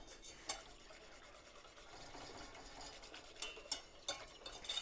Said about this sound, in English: start whisking